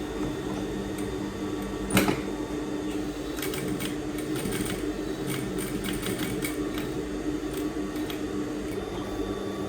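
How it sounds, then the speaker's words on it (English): A sewing machine topstitches the facing on a pair of kids' pants, a soft continuous whirring with light repetitive needle clicks and one sharper knock, steady and close in a quiet room. "now let's top stitch the facing in place"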